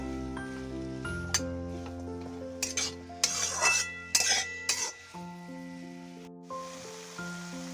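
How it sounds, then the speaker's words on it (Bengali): Kumro shaak, pumpkin-stem greens with fried eggplant, stirred in a pan: a few clattering scrapes and clinks of a utensil against the pan come in short bursts midway, under steady background music. "সবগুলো উপকরণ দিয়ে আবারও ভালো করে নেড়ে চেড়ে নেব আর ঢাকা দিয়ে রাখব।"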